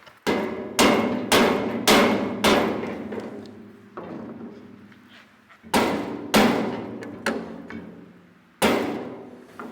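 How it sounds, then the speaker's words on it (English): A rubber mallet taps a wooden spacer into a gap, giving about ten sharp, close thuds in irregular clusters with short ringing decays and brief pauses between groups, with no talking. "let me go grab a rubber mallet"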